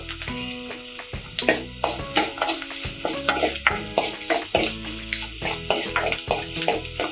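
Onion sautéing in a pan for rasam, with repeated stirring scrapes and soft sizzling coming in close, rhythmic bursts over a steady cooking hiss.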